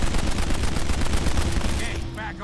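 Rapid shotgun and automatic gunfire in the PC shooter Kane and Lynch: Dead Men, loud, dense overlapping blasts filling the whole moment, with a brief voice near the end.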